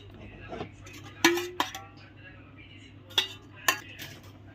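A metal lid set onto a cooking pot, heard as several sharp clinks and clatters of metal on metal, spaced apart, close and fairly crisp over a low background hum.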